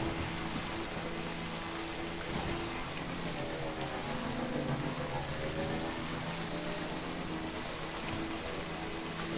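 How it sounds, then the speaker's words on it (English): Steady rain in the Death Stranding video game patters densely on surfaces, with a low, even hum beneath it and no voices. "It's okay, it's raining."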